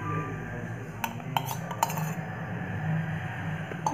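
A spoon stirs red chili, salt and curd in a bowl, giving a few light metallic clinks and taps scattered over a steady low background hum, with no voices.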